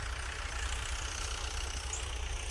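A steady low tractor engine drone runs throughout, idling or chugging at a distance while ploughing a neighbouring field, with no voices.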